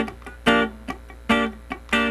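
Funk rhythm guitar part: sharp, staccato chord stabs alternate with muted scratches in a syncopated pattern, three bright accented hits among lighter chops, played close and alone.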